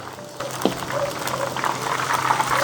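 Chicken pieces being re-fried in hot oil at about 70 percent heat, a steady bubbling sizzle that swells slightly as it goes, with a faint clink near the start.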